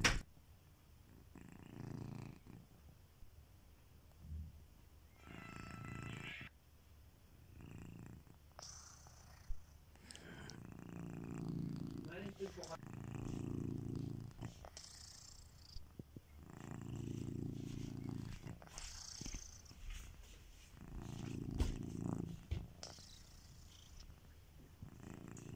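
A cat snores and purrs up close in a quiet room, with a steady rhythm of breathy bursts every few seconds and no talking.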